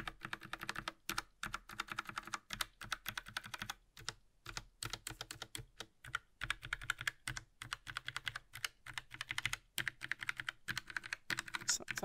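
Typing on a Logitech MX Mechanical Mini keyboard: a steady, quiet run of crisp key clacks with brief pauses, close up and alone.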